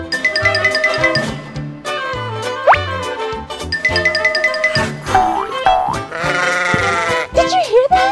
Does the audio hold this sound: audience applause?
no